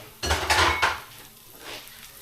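Onions drop into a pan with lambs liver and bacon, a short clatter of metal and utensil knocks followed by a soft sizzle that fades.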